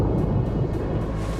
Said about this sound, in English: racing the menacing thunderstorm